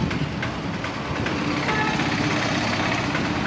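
A car summoned through Uber pulls up and idles nearby, a steady low engine rumble with broadband road noise that stays even throughout, no voices on top.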